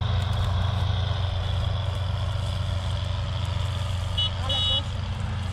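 A vehicle horn sounds twice in quick succession near the end, over a steady, loud engine rumble during a farm harvest.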